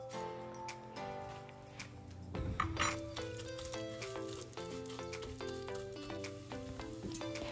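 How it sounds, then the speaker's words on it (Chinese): Fried shallot crisps sizzling in hot oil in a soup pot, a quiet continuous crackle under faint background music, with a louder burst of frying in the middle. "另外一个汤锅准备来煮汤，油热后我加入两大匙的油葱酥"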